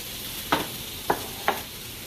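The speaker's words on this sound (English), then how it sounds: "I'm going to start cooking my sausage" Turkey sausage cooks in a frying pan with a steady soft sizzle, broken by three brief scraping stirs.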